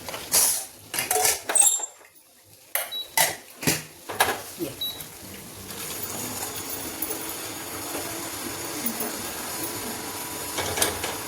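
Chana dal is added to cooked pumpkin curry in a pot. Sharp metallic clinks and scrapes of a spoon against the pot come in bursts over the first few seconds, then give way to a quiet, steady hiss.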